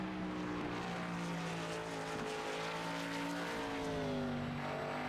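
Race car engine in a racing video game at North Wilkesboro, a sustained droning whine holding steady pitch with slight shifts as the car runs a lap, alone without talk.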